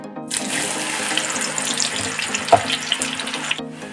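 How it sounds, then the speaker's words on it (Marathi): Raw banana chips frying in very hot oil give a loud, steady, dense bubbling hiss that runs nearly the whole time, with a sharp clatter partway through, and no one speaks. "केळाचे वेपर्स तेलामध्ये टाकून घ्यायचे तर आता तळून घेऊया"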